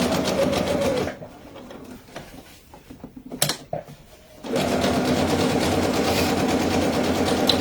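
A sewing machine stitches a fabric bag in a steady, fast, continuous whir, pausing for a few seconds with some light clicks and handling noise before running again at full speed.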